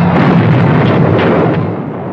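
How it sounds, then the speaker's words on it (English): Wartime anti-aircraft flak explodes in a loud, dense rumble of overlapping bursts above the Ploiești oil fields in Romania, a booming roar that fades slightly toward the end. "Nazi anti-aircraft guns fill the air with flak"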